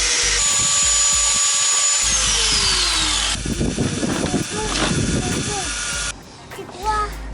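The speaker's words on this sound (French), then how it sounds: "Donc c'est parti, on coupe et on perce." Power tools cutting and drilling flat steel bars to make seat brackets for a Jeep Cherokee XJ, loud and continuous with a whining cut giving way to rough grinding and drilling, with voices over it.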